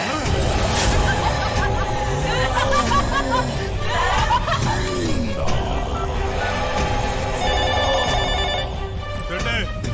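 A telephone bell rings repeatedly through a busy background of overlapping chatter and crowd noise, steady and loud throughout.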